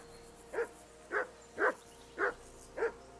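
Dog in the video game Kingdom Come: Deliverance II barking five times at an even pace, each bark short, clear and fairly close over a quiet background.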